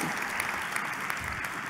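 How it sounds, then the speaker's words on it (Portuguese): Audience in a conference hall applauding a speaker named Paula after her talk, a dense, steady burst of clapping lasting under two seconds with no voices over it. "aplauso para Paula entonces."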